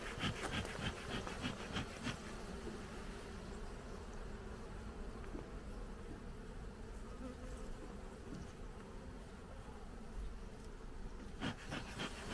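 Dense, continuous buzzing of many honeybees close by at an apiary, a steady droning hum with occasional rustling and scraping sounds.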